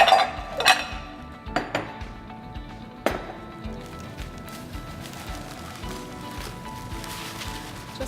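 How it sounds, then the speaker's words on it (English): Crushed vanilla wafer crumbs for walnut bourbon balls tipped into a bowl, with a few sharp clinks of the container against the bowl, then a soft continuous pouring rustle with light clatter. "we're gonna put them into a bowl"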